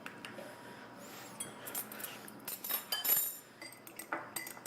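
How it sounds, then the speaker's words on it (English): Light clinks and taps of utensil against a bowl as an egg is cracked and whisked, irregular and close but faint, with no talking. "I'm going to crack this egg and just whisk it a little bit."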